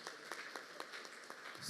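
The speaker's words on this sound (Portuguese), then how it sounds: "pedir uma salva de palmas para esse irmão" Scattered, faint clapping rises from a church congregation honoring a newly certified member, a handful of soft uneven claps heard at a distance and with no voices.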